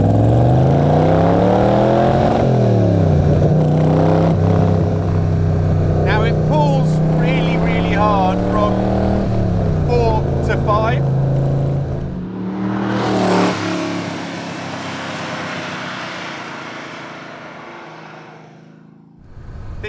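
A De Tomaso Pantera's powerful engine revs hard and accelerates through several gears, its note climbing and dropping with each shift, then fading to a quieter rumble.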